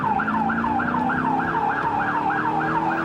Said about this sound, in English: With sirens blazing, Cicero police race to another gang-related shooting.